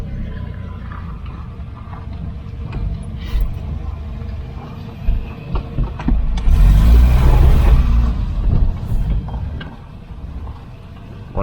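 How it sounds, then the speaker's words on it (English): A Volvo 740 with the red block engine runs steadily at idle, close by, in a continuous low mechanical hum with some ticking and clatter and a brief louder swell midway. "I've never seen a red block idle so smoothly"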